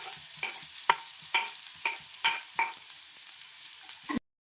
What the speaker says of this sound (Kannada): ಸ್ವಲ್ಪ ಮೆಣಸಿನ್ಕಾಯಿ ಫ್ರೈ ಆದಮೇಲೆ ಈರುಳ್ಳಿ ಹಾಕೊಳ್ಳೋಣ.